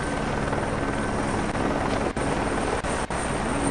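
A helicopter in a WRC rally video game during an airborne camera view of a stage in Argentina, a loud, steady rotor drone filling the whole stretch with no speech.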